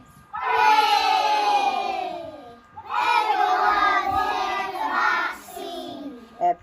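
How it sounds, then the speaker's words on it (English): Children at a school assembly burst into two long rounds of loud cheering and shouting mixed with clapping, separated by a brief lull, the crowd noise filling the hall. "I think that deserves a big clap."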